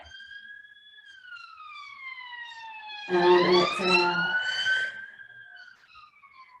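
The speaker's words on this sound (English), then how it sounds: "So those sirens are a new addition." Police sirens wail outside during a restorative yoga session, a rising and falling two-tone whine heard at moderate distance throughout, while an instructor's voice speaks briefly over it.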